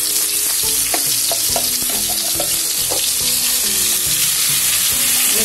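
Turmeric, asafoetida and ground masala paste hit hot oil for shev bhaji, giving a loud, steady, close sizzle with occasional clinks of stirring throughout.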